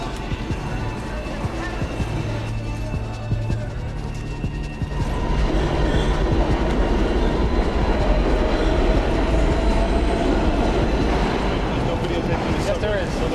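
A subway train rumbles and clatters along the rails, a steady loud roar that swells partway through, with people talking over it.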